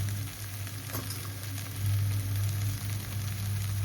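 Chopped onions and tomatoes fry over a slow flame while a ladle presses them down, giving a steady, soft sizzle with faint scraping from start to finish and no voices.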